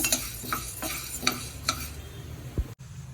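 Grated coconut is roasted in a pan, with a steady rhythm of stirring strokes scraping the pan about every half second over a soft continuous sizzle, close and alone.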